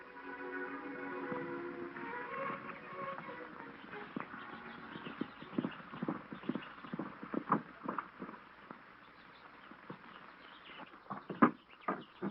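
Horses' hooves clip-clop as riders come in on a ranch near the border, a soft irregular run of hoof thuds over low outdoor background, growing denser and louder toward the end.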